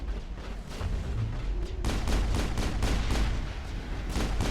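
Gunfire erupts in a Mass Effect firefight, rapid repeated shots and blasts over a rumbling backdrop, intensifying midway into a steady rhythm of loud cracks, with no talking.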